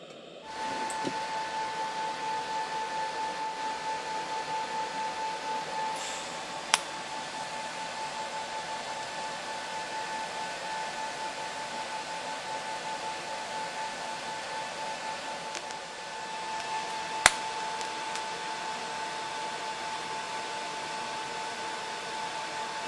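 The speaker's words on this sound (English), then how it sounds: "Let's keep welding." TIG welding torch running steadily on metal joint, a continuous hissing buzz with a faint high whine, held evenly for over twenty seconds with two brief sharp clicks and no talk.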